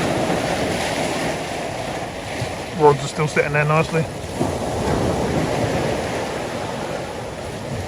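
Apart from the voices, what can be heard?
waves splashing over the sea wall, North Norfolk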